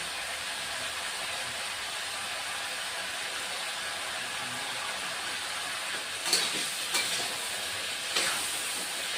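Mutton stir-fried in a pan with turmeric and salt gives a quiet, even sizzle that holds steady, with a few spatula scrapes and knocks near the end.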